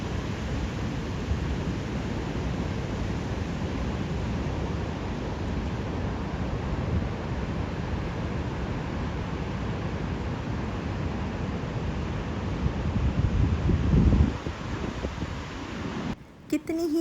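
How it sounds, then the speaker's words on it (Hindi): Strong wind and water at a quiet beach on the Gold Coast, a continuous broadband roar with gusting rumble and wave wash, steady and loud, with a brief disturbance near the end. "बहुत खामोशी थी इस साइड पे और तेज़ हवा चल रही थी और पानी की जो आवाज़ है वो इतनी खूबसूरत लग रही थी।"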